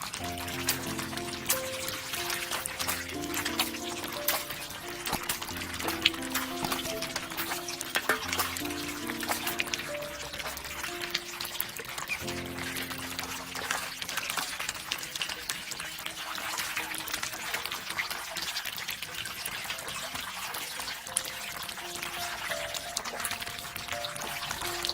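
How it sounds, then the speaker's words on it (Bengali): Three-month-old Chinese ducklings splash and paddle in water for the first time, a continuous close wet sloshing with drips and trickles, faint background music tones early on. "বাচ্চাগুলোকে প্রথম পানিতে নামালাম।"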